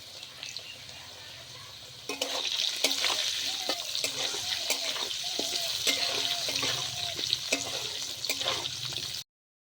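Rohu fish pieces seasoned with salt and turmeric fry in hot oil in a pan, a steady close sizzle starting after a quieter opening, broken by repeated scraping taps of a spatula turning the pieces.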